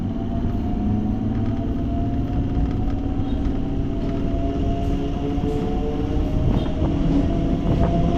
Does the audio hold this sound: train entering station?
yes